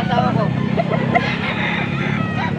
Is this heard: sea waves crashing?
no